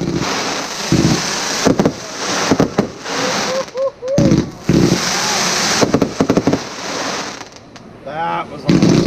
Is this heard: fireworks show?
yes